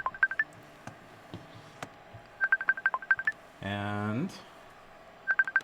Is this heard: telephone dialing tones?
yes